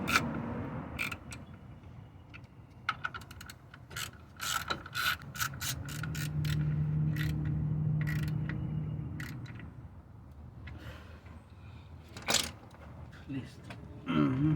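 An impact gun spins out the two 12mm bolts on the shield guarding the boot and front axle of a Hyundai Santa Fe or Kia Sorento, a sustained mechanical whir with ratcheting clicks and scattered clanks of tools nearby.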